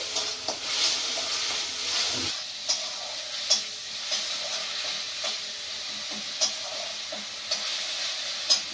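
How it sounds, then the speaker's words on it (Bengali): Onions sizzle and hiss in a hot pan as they fry, with a spoon scraping and tapping at regular intervals over the steady frying sound. "তো চলো দেখো, পেঁয়াজটা ভাজছি"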